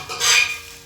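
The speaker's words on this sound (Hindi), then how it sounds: "थाली को साफ़ कर लेती हूँ और बाकी जो बर्तन है उनको भी साफ़ करके ले आती हूँ।" A metal thali plate is handled for washing in a home kitchen, giving a short close metallic scrape and clatter that swells and fades within a second, with no talking.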